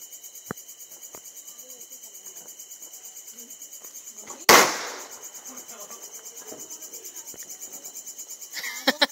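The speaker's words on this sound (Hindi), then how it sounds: "ये लगे हैं पटाखे फोड़ने में यहाँ।" A single sharp firecracker bang bursts close by during a Bhai Dooj festival evening, with a few smaller pops at the end, all over a steady chorus of crickets.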